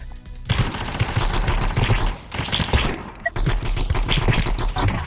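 Rapid automatic shotgun fire from Animal Rivals VR, a dense, loud burst of repeated gunshots with a brief pause near the middle before the firing resumes, no talk over it.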